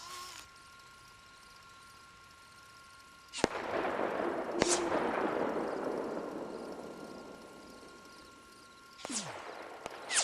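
Suppressed Anvil gunshots fire in the ARC Raiders shooter, shown at about 200 meters: a few sharp, spaced cracks, one followed by a long rolling echo and background hum, moderately loud with no talk.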